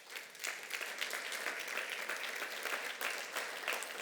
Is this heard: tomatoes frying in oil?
no